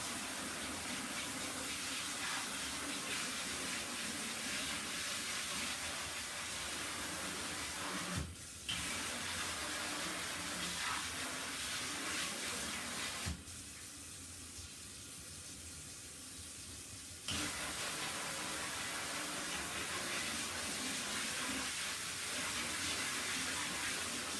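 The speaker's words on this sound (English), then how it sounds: "And I just spray my chalk off." Steady hiss of a sink sprayer jetting water onto a chalkboard, continuous with brief pauses and a softer stretch midway, no voices.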